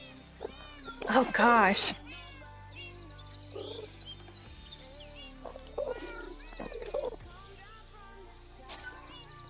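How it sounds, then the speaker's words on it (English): A cat meows several times, with one loud, drawn-out meow early on and fainter meows following, heard under a person talking indoors. "I can hear a cat now."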